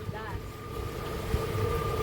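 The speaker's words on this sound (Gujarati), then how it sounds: "બધાય ગોઠવાઈ ગયા બોટમાં અને બોટ ઉપડી ગઈ છે" A motorboat engine drones steadily with a low rumble and wind buffeting the microphone, close and continuous over a couple of seconds, in Rajasthan.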